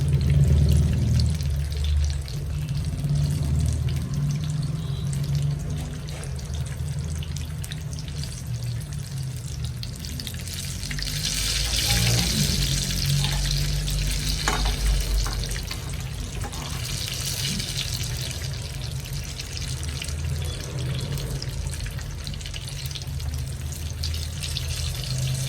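Mulaku bajji, chili fritters, fry in hot oil with a continuous broadband sizzle and hiss that swells and eases slightly, steady and close throughout.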